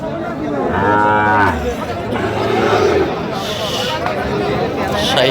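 Sahiwal calves, about five to six months old, moo loudly at a busy cattle market, one long close low moo followed by fainter calls, amid crowd chatter and people talking nearby.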